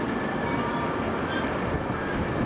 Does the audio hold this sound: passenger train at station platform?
yes